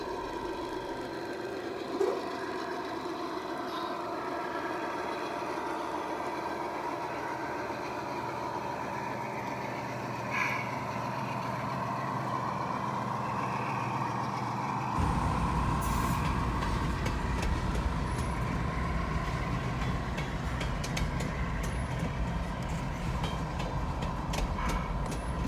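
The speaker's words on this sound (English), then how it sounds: "we get a shot of the train crossing the wooden trestle over Dry Creek" Freight train hauling woodchips across a wooden trestle over Dry Creek: a long, steady rumble of rolling cars with a distant horn, growing louder and harsher as wheels clatter nearer partway through.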